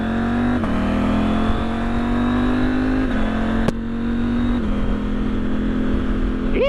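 A car pulls away in traffic with engine revs climbing steadily through a few gear changes, a loud, close, continuous drone.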